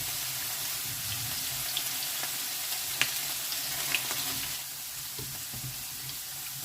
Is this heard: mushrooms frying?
yes